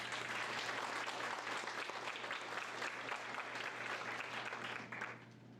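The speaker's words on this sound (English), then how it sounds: "A round of applause for our first judge, Ryan." A rodeo queen contest audience gives a round of applause for a judge, a steady wash of clapping heard from some distance that carries on evenly and then tapers off at the end.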